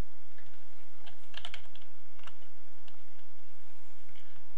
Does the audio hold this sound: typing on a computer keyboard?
yes